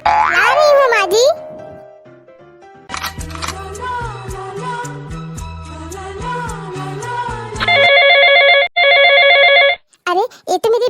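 Cartoonish boing effects and music give way to a mobile phone ringing in repeated bursts, and a voice speaks in between.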